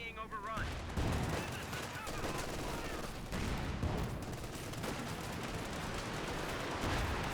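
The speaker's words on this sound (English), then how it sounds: "Panzerwerfer barrage. This could be deadly." Panzerwerfer rocket barrage in Company of Heroes 2, a dense, continuous roar of explosions and crackling fire lasting throughout, loud and chaotic, with battle sounds layered on top.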